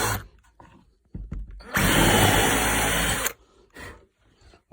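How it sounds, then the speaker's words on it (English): A power drill spins a countersink bit into a pre-drilled hole in reclaimed pallet wood, whirring loudly and steadily for about a second and a half, framed by quieter handling clicks and short bursts before and after. "we'll take the countersink, put it in the hole there, spin it for a minute"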